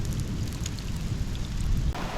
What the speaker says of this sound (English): we're also in a hailstorm. Ow! They're decent size pellets.